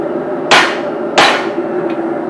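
Hammer strikes forging a small ball peen hammer: two loud ringing blows about half a second apart, then a faint lighter tap, close by over a steady background hum.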